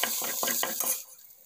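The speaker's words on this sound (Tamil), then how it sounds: "அடுத்து புதினா, கொத்தமல்லி நல்லா போட்டு அதுவும் நல்லா மிக்ஸ் பண்ணிக்கோங்க" Mint and coriander are stirred into vegetable biryani in a pressure cooker, about five quick rhythmic scrapes of a spoon against metal over a soft sizzle, then the stirring stops and the sound fades.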